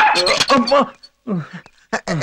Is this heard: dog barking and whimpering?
yes